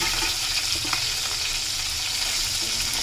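Tilapia fillets fry in a pan of hot oil for a home-style Dhaka dish with bean seeds, giving a steady, close, loud sizzle with light crackles and no voices.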